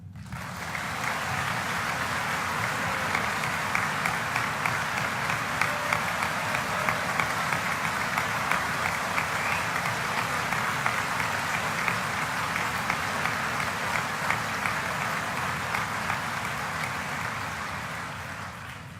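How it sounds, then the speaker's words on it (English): A party conference audience applauds steadily for nearly twenty seconds, a dense, even roar of many hands with no speech over it. "conference should applaud her"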